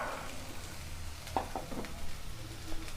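Chopped green beans hit hot oil with onions in a pan for beans poriyal, giving a steady low sizzle with a few soft stirring clicks and scrapes, close and fairly quiet, no talking.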